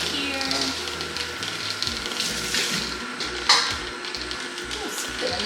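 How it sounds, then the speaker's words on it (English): A bowl rinsed under a running kitchen tap while juicing melon, a steady close hiss of flowing water with a brief sharper splash midway. "Just gonna rinse this bowl here."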